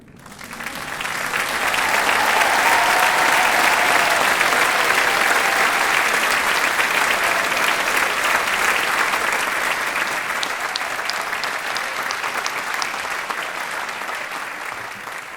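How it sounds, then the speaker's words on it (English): Commencement ceremony audience breaking into steady applause, swelling quickly and holding as a broad, even wash of many hands clapping, easing slightly near the end. "Let's give them another round of applause."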